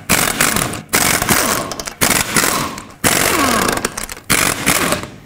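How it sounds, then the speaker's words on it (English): An impact wrench spins lug nuts off a 1997-2003 Ford F-150 rear wheel with a 21mm socket, loud close rattling bursts of about a second each, five in a row separated by brief pauses. "21mm socket, take off all 5 of your lug nuts"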